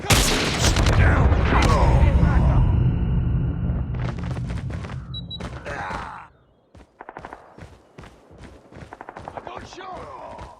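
Call of Duty Mobile gunfire comes in rapid sustained automatic bursts with booming explosions, loud and dense at first, then thinning to scattered sharp shots and clicks toward the end.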